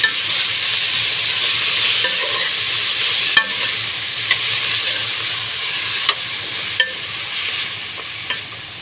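Coriander, spring onion and chili leaves fry in hot oil with a constant loud sizzle, while a utensil stirs and scrapes the pan in sharp, irregular clicks.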